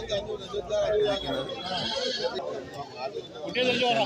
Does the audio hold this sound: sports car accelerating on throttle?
no